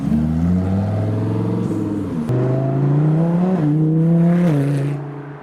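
A Lamborghini Huracan Performante Spider drives by on the road, its engine droning loud and close with rising and falling revs through gear changes, then fading slightly as it moves away.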